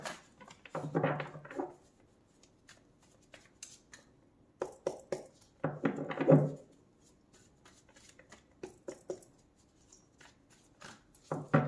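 A tarot card deck is shuffled by hand in a few short riffling bursts, close and fairly soft, separated by quiet gaps and faint scattered taps.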